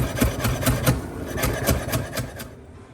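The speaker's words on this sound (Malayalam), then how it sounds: "കൊറിയാൻഡർ ഒന്ന് ചോപ്പ് ചെയ്തെടുക്കാം കേട്ടോ." Coriander being finely chopped with a knife on a board, a quick run of crisp, evenly spaced taps close by, stopping abruptly near the end.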